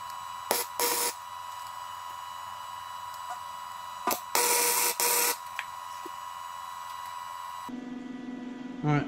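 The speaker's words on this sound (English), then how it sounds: "places I'm gonna be welding, I'm just gonna go ahead and tack them in there" Short bursts of tack welding on a Toyota rear end, a few crackling spurts of arc over a steady electrical hum, close by and fairly loud, with a quieter shift in the background near the end.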